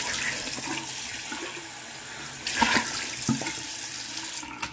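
Water runs steadily from a tap into a sink, with a few splashes and brief handling sounds over the flow.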